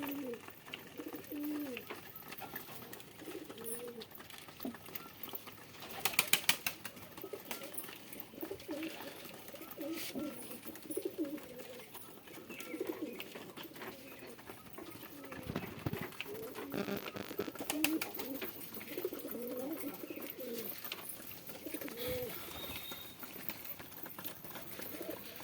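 Pigeons at a pigeon farm on a hot day, soft repeated cooing and rustling from several birds, with occasional wing flaps and bumps, fairly close and steady.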